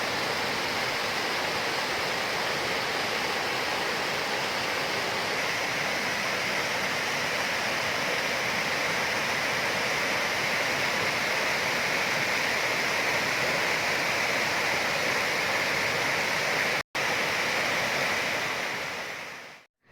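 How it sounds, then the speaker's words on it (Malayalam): Koyippara waterfall, a large falls near a resort at Kakkadampoyil, roars as a steady, dense rush of water that stays loud and unbroken for the whole stretch, with no voices over it. "നമ്മുടെ റിസോർട്ടിൻ്റെ അടുത്ത് തന്നെയുള്ളൊരു വാട്ടർഫോൾസാണ് കേട്ടോ"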